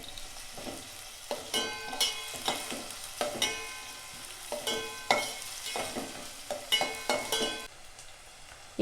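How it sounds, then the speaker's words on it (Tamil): Onions frying in a pan with cinnamon, fennel and cloves, a soft steady sizzle broken by repeated close scraping and clinking of a spatula stirring them. "அதில் வெங்காயத்தை சேர்த்துக்குவோம். நல்லா வதக்கி விட்டுடலாம்."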